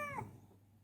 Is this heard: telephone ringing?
no